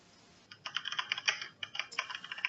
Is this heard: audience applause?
no